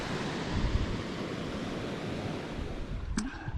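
A small stream flows beside Eklutna Lake near Anchorage, a steady broadband rush of running water heard up close and continuous, with a brief knock near the end.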